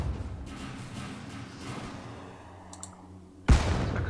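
Mouse clicks during a session of the strategy game StarDrive, a steady patter of soft clicking that gives way to a louder, denser burst near the end, with no voices.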